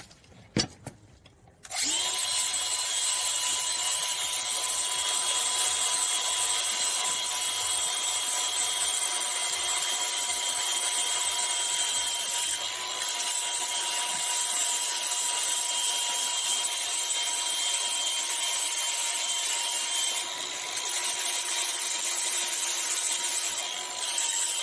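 A power drill with a large regular bit bores into rusty car floor metal on a Suzuki, whining at a high, steady pitch close up for over twenty seconds after a brief start, with only slight dips in load.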